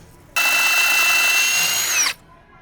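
A power drill whines steadily for nearly two seconds as it bores into stuck exhaust bolts on an Evinrude outboard motor, loud and close, then stops abruptly.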